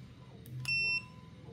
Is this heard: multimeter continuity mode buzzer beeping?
yes